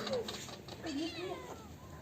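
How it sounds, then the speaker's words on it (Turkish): A cat meows a few short times in a rural village setting while nearby voices keep calling it and chatting over the sound. "kedi bulduk"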